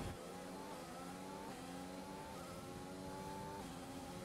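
Formula 1 car engine racing in the video game F1 2020, a high, sustained engine whine with rising gear-shift pitch sweeps repeating every second or so, steady and close throughout.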